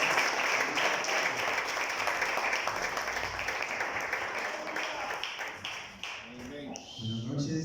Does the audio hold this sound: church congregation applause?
yes